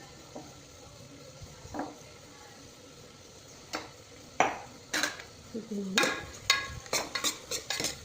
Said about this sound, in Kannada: ಇವಾಗ ಇದಕ್ಕೆ ಬೆಳ್ಳುಳ್ಳಿ ಮತ್ತು ಅಲ್ಲನ ಜಜ್ಜಿರೋದನ್ನು ಹಾಕ್ತಾಯಿದ್ದೀನಿ